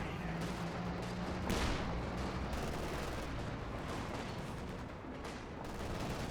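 A DShK heavy machine gun fires against Volksgrenadiers in the Company of Heroes 2 video game, a quiet, steady rattle of continuous automatic fire mixed with distant battle noise and a few sharper bangs.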